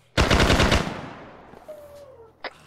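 Short, loud burst of rapid automatic rifle fire in S.T.A.L.K.E.R., a quick string of shots that rings out and fades, followed by a single sharper report, with no talking.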